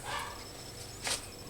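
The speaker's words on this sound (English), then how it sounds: "Pardon my barking dog in the background." A dog barks a couple of times in the background, short muffled yaps somewhat distant, with quiet room noise in between.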